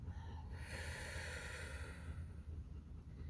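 A long, slow exhale during a guided calming breathing exercise, a steady breathy hiss heard close and sustained for several seconds.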